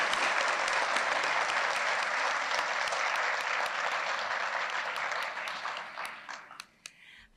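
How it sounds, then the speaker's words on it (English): Guests at a school district teacher and employee of the year luncheon give the nominees a long round of applause, dense and steady at first, then thinning into scattered individual claps before fading out. "Let's give all of our nominees a round of applause,"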